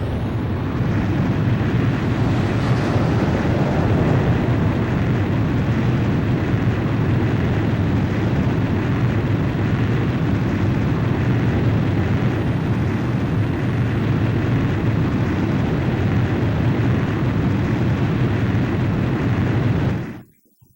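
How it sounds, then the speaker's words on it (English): A jet fighter's engines roar steadily on a carrier deck in the Ace Combat 5 mission Ancient Walls, a loud continuous broadband rumble that holds for about twenty seconds before cutting off abruptly. "Blaze, you are cleared for takeoff."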